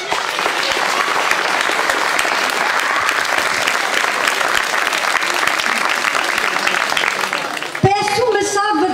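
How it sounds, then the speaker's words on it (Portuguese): Sustained applause fills a crowd at the inauguration of a cultural, recreational and social association in Cunha Alta, loud and steady throughout, with a brief shift near the end as a voice starts over it. "Peço uma salva de palmas para o Sr. Presidente da Câmara, João Azevedo,"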